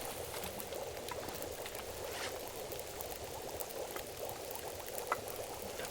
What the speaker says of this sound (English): Might as well boil a tiny bit of water